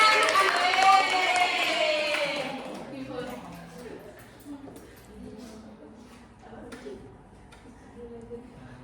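Students in a classroom break into a short burst of hand clapping mixed with young voices, fading after about three seconds as a teacher's voice continues speaking over quieter room noise.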